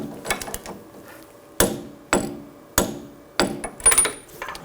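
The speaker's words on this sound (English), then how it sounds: "Just give it a couple taps. That's just going to prevent the nut from loosening up." Several sharp metallic hammer taps on a front CV axle nut of a 2000-2006 BMW X5, spaced about half a second to a second apart, with faint ratcheting clicks between in a quiet garage.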